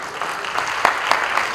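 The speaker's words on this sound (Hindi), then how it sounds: "जोरदार तालियों से स्वागत।" Concert audience clapping to welcome a guest at a centenary concert, a steady wash of applause with a few sharper claps standing out, moderately loud throughout.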